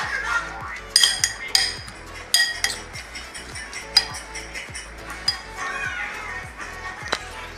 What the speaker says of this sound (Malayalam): ഇത് നമ്മൾ നന്നായിട്ട് ഇളക്കണം.